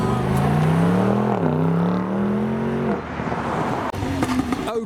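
BMW 8 Series wearing a flashy Batwoman wrap pulls away from a car show, its engine droning loud and steady with a rising then dipping pitch before fading, followed by quieter crowd and street noise.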